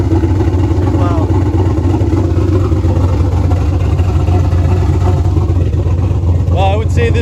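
A turbocharged LS V8 swapped into an SN95 Mustang idles with only a downpipe fitted, a loud, steady low rumble running throughout, close by, with a voice speaking over it.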